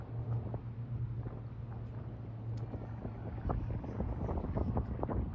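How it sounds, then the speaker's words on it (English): A dinghy is rowed on open water, with soft irregular splashes and oar knocks over steady wind noise and a low motor hum. "She's rowing."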